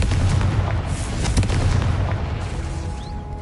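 Confringo fire curse explosion in a wizard video game: a loud, sustained booming blast with crackling bursts that fades slowly over a few seconds, with no voices.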